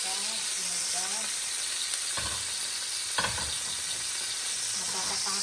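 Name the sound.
milkfish frying in hot oil, being flipped and splattering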